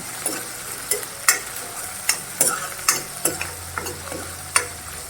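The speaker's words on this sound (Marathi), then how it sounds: "ठेचा चांगला परतून घ्यायचा आहे" Thecha in oil with a handful of curry leaves and a little coriander sautés in a pan under a soft steady sizzle, broken by repeated sharp knocks and scrapes of a spoon stirring.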